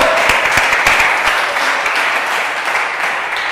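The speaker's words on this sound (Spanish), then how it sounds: "¿Cuántos tienen palmas para el Rey?" A church congregation applauds during a Spanish-language worship service, a loud, steady wash of clapping that holds for several seconds and slowly eases off.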